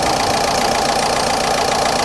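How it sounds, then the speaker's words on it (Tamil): A Ford Ikon car engine idles steadily at close range, a continuous mid-pitched rumble with slight knocking texture and no break across the two seconds. "இன்ஜின் ஸ்டார்ட் பண்ணுவோம்."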